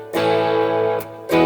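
An electric guitar with a Firefly pickup in the bridge position plays through an amp with reverb at half, miked by an SM57-type clone. Two brief sustained chords ring clearly and loudly, separated by a short gap, with no talking.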